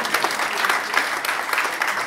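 A crowd claps at a political rally for a left-wing ecologist alliance, a brief, steady burst of dense applause from the hall.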